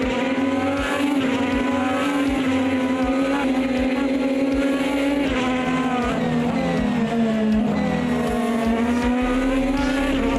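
IndyCar race car engines roar continuously in a racing video game, a loud sustained high-pitched drone with shifting pitch as several cars run close together throughout.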